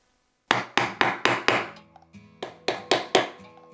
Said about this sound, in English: So I have moved on to hammer and stick.